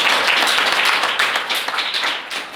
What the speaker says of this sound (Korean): 그런 의미에서 박수 한번 치고 시작하도록 하겠습니다.